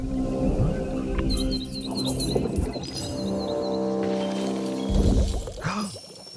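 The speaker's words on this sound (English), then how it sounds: "Look at the birds." Short chirping bird calls from a nature-building game with crossbills placed near a fir tree, rising in brief clusters over a steady bed of ambient music and rustling sound effects.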